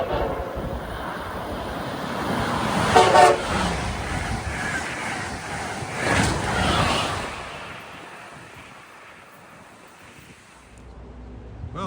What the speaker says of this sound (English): here comes the Acela 2250, Washington, Boston